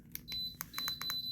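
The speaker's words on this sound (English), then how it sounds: "Excuse the beeping." A clip-on phone cooling fan switching on gives a quick series of short, thin electronic beeps in an uneven rhythm, close and fairly quiet.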